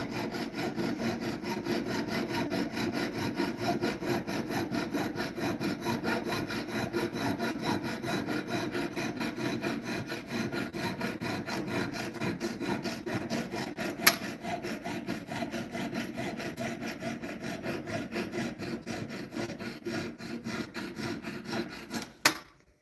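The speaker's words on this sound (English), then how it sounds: "Did you hear the sound change as she reached the end of sawing?" Steady back-and-forth rasping of a hand saw cutting through wood, with a quick, even rhythm that runs for a long stretch before stopping.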